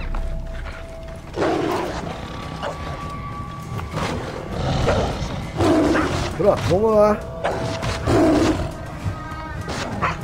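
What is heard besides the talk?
lions fighting hyenas, roaring, from a video game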